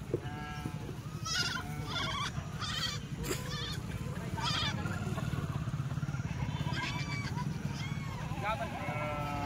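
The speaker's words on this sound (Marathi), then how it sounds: "दुधाची शेळी" Several Kathiawadi dairy goats and sheep bleat repeatedly at a livestock trading lot, the calls overlapping over a steady engine rumble and close background chatter.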